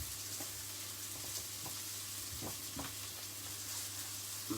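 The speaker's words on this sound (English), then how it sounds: "Fry those just for a minute" Beef stew ingredients fry in a pan, giving a steady, dense sizzle throughout with a few soft stirring knocks beneath it and no voices.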